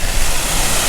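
Constant hiss of falling water from a waterfall along a Shenandoah trail, close and loud, a brief unbroken wash of noise with no talking.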